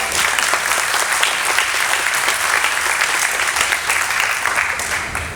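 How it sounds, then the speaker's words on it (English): A conference audience at an opioid summit panel in the Eastern Sierra applauds loudly and continuously, dense overlapping claps filling the room for several seconds before tapering slightly at the end. "so if we can give them a round of applause."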